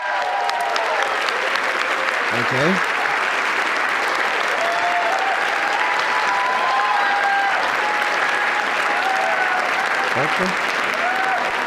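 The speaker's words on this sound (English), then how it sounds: "let's give him a big round of applause" At the White House Correspondents Dinner, a large banquet crowd breaks into sustained, loud applause for an award winner, the dense clapping carrying on while someone speaks briefly over it.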